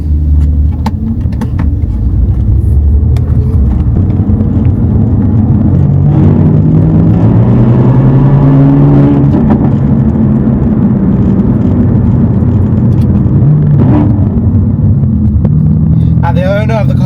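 A tuned, stanced BMW M4 F82 on the road, its engine droning low and loud from inside the cabin, with the pitch rising and falling through gear changes; a voice talks briefly over the steady rumble.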